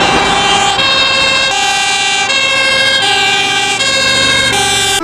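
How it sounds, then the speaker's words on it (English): Loud, continuous fire truck siren, its wailing tone repeating in regular cycles about every three-quarters of a second, close and dominant. "This is a fire truck."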